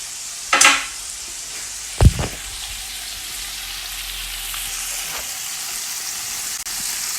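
Salmon fries skin side down in a pan, a steady close sizzle with a sharp spit early on and a solid knock of pan or utensil about two seconds in.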